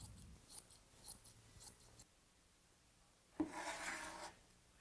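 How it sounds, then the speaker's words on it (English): Fiberglass cloth being rolled out and pre-cut to size for a homemade boat, faint close rustling and rubbing with a few soft snips, then a louder burst of cloth handling and cutting. "Now I'm rolling out my fiberglass and roughly pre-cutting to size."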